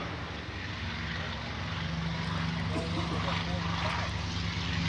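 A WWII P-47 fighter on a photo pass at the Myrtle Beach air show, its constant propeller engine drone loud and close throughout, with someone talking over it.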